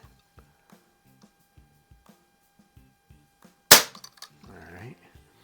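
A Remington trigger is pulled during a trigger-pull gauge test: faint regular ticks lead to a single sharp, close snap as it breaks, followed by a brief rustle.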